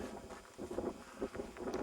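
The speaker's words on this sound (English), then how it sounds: "It's very, very windy" Gusty wind buffets the microphone, a rough, rumbling roar rising and falling over a couple of seconds.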